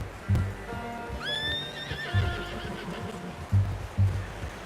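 A horse in Red Dead Redemption 2 gives a loud, rising whinny in the middle, with heavy hoof clops and low thumps scattered before and after it.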